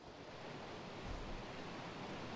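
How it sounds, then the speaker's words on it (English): A video-game waterfall on an island map gives a steady, even rush of broadband water noise, moderately loud and unbroken, with no voices over it. "The waterfall's just beautiful here,"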